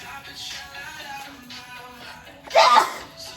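Quiet background voices murmur, then one sharp, loud sneeze bursts out near the end.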